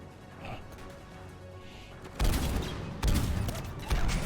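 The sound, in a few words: grenade explosions in Mass Effect 3 video game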